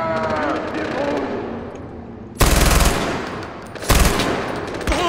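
Gunfire in the video game Far Cry 4: two loud bursts of rapid automatic fire cut in after a quieter stretch of background game sound, followed by a brief single shot near the end.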